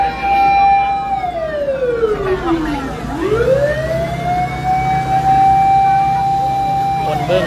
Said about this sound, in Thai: คันนึงมาอีกแล้วน่าจะเป็นรถคันใหญ่ จะเป็นรถดับเพลิงคันใหญ่